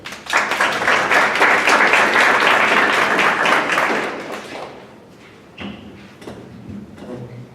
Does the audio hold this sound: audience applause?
yes